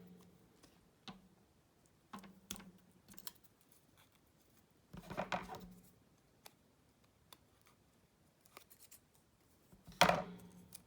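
Scissors make quiet, sparse snips through paper sticker backing, with a few sharper cuts at irregular intervals in a hushed room.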